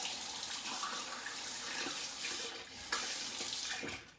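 A tap runs steadily, rinsing a boar-bristle shaving brush under the stream, a close, continuous splashing wash with no talking.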